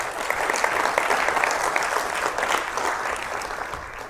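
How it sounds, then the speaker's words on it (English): An audience at a talk on trauma research and healing gives sustained, even applause, a dense crackle of many hands that stays steady and fairly loud throughout. "give yourselves a round of applause for being here today"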